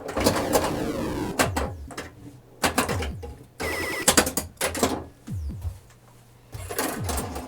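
A Williams Gorgar pinball machine in play gives sharp bursts of mechanical clatter, solenoid knocks and rattling, with electronic chirps and descending sweeps between quieter gaps.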